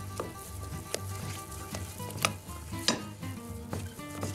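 Choux pastry dough being stirred in a hot pan, a thick clumping flour-and-butter paste for chocolate éclairs, gives repeated scraping strokes and soft sizzling with periodic sharp spoon clacks against the pan, close and steady.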